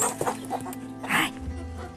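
Chickens on a small farm cluck and squawk while a woman feeds them, with short irregular clucks and one louder squawk, close by.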